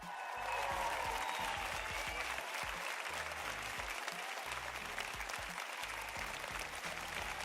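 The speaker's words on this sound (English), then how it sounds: "Let us give them a round of applause." Audience applause in a live-streamed homebrew review session: a steady, dense wash of clapping that runs without a break for about seven seconds at an even, moderate level.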